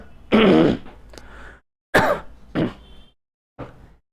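A man coughs and clears his throat in several harsh bursts, the first long and loud, the later ones shorter, separated by brief silences.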